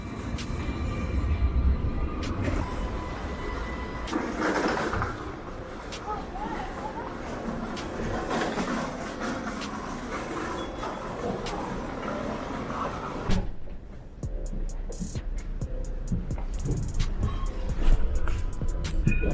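A Sydney tram running, with steady low rumble and rail noise throughout, a brief drop near the end followed by clattering, and people talking over it.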